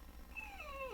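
A dog lets out a single brief, high whimpering whine that slides downward in pitch, faint against a low background hum.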